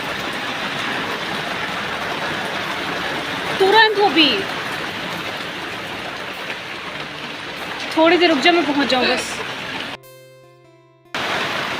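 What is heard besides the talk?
heavy rain falling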